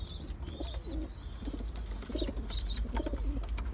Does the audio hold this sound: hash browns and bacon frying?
no